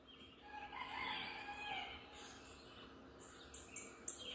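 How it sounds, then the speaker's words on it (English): A rooster crows once in a long, drawn-out call, moderately distant, followed by fainter chirps of small birds. "the rooster says good morning too"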